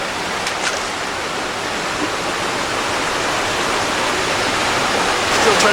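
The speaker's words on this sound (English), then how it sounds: "We got a cool little waterfall." A small waterfall beside a Union Canal lock makes a loud, steady rushing roar that slowly swells, heard up close and alone.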